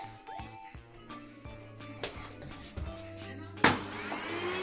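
A toy vacuum cleaner switched on for children's play while sweeping up toys gives a steady, fairly quiet whirring hum with light clicks and knocks, running continuously throughout.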